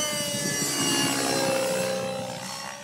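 A radio-controlled flybarless helicopter fitted with EDGE 603 blades flies outdoors in wind, its steady high whine and rotor buzz loud and continuous, fading slightly toward the end.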